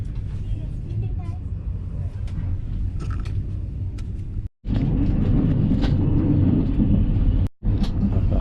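Steady low rumble and rattle of a first-class carriage on an overnight train from Chiang Mai to Bangkok, continuous and fairly loud, with two brief dropouts near the end.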